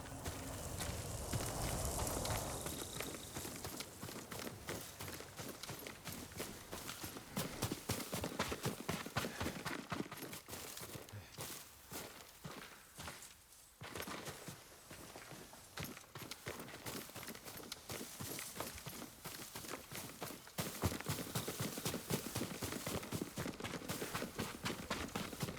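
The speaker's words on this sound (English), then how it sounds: "Yuriko's horse." Horse hooves clip-clopping in Ghost of Tsushima, a steady rhythmic run of hoof beats over a dense, continuous game soundscape that stays fairly loud throughout.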